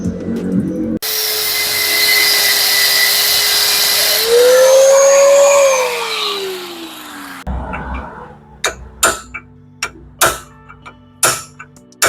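An angle grinder cuts into a seized front wheel bearing on an Opel Blazer, a loud steady whine for about six seconds that rises in pitch, followed by sharp metallic chisel strikes and knocks.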